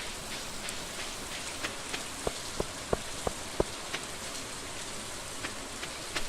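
Rain falling in the video game Stardew Valley, a steady hiss of rainfall on surfaces with a short run of distinct drop-like taps partway through, continuous and fairly soft.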